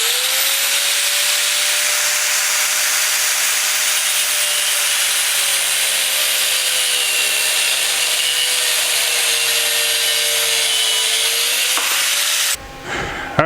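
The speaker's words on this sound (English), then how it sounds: "So this is just a 1/16 cutoff wheel and an angle grinder here." Angle grinder with a 1/16 cutoff wheel cutting into a metal mold: a loud, continuous high-pitched grinding whine held steady at close range for about twelve seconds, then cutting off abruptly.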